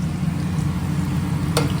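Steady frying hiss from a new pan while making chicken biryani, continuous and fairly loud, with a brief sharp clink near the end and no talking.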